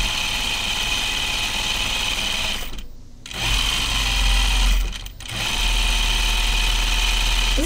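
A sewing machine runs steadily while stitching a Wiksten Unfolding Jacket, a loud continuous mechanical whir broken by two brief pauses where the needle stops before resuming at an even speed.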